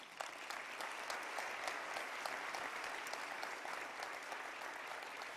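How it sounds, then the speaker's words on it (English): Steady, dense audience applause fills a hall at the 2023 Lifeworks Services annual celebration, many hands clapping evenly at moderate distance for the whole stretch with no voices on top. "Give them a round of applause"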